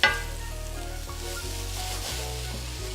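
Chorizo, potato and sweet potato fry in a pan of rendered oil, giving a steady, close sizzle that holds throughout with no talking.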